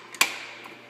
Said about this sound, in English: Change gears